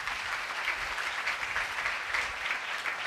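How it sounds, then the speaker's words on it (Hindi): Church congregation applauding God during a Christian sermon, a steady, full burst of clapping from many hands at moderate volume, continuous without pause. "आओ ऐसे खुदा के लिए जोरदार तालियां बजाओ"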